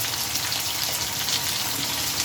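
Pumpkin pieces fry in a hot pan with no water or spices added, giving a steady, close, even sizzle that runs unbroken with no talking.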